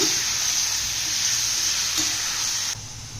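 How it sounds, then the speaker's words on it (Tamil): Chicken pieces fry in a hot pan with a strong, hissing sizzle and a couple of spatula scrapes as they are turned, close up, easing off abruptly near the end; no speech. "போட்டு நல்லா பரட்டி விடுங்க"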